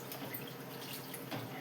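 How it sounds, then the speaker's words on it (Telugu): Water is poured into a pot of drumstick curry, giving a soft, brief trickling and splashing sound, faint and close, with no talk. "ఇందులో కాస్త వాటర్ వేసుకుంటే మగ్గుతుంది."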